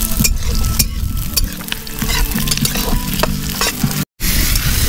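Onions frying in a pan at an outdoor picnic cooking spot, a steady loud sizzle with stirring scrapes throughout, broken by a brief dropout near the end.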